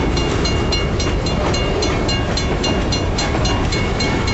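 A BNSF grain train rolls past on the rails near Garvin, Oklahoma on a cool night, a loud, steady rumble with rhythmic wheel clatter over the joints and no voices.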